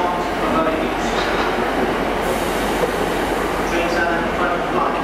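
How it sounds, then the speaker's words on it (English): A train arriving at platform 3 of Cardiff Central station, loud rumbling wheels and rail clatter with squealing metal, continuous and close, while a voice talks faintly over it. "That's the next train to arrive on the platform 3"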